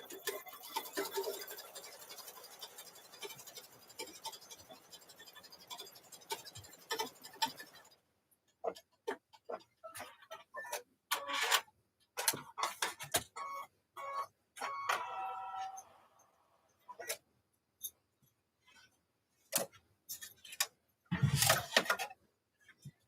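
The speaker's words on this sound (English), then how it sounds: "It's going to run that placement stitch, guys." An embroidery machine runs a placement stitch on a double zipper bag in the hoop: a dense, steady mechanical whir at first, then gives way to intermittent ticking and clattering bursts with short pauses between them.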